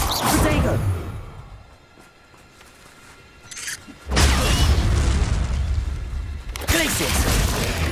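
Protego shield spell from the Hogwarts Legacy video game, a loud whooshing boom that drops to a low hum and then swells again twice in heavy bursts, with other game effects mixed in.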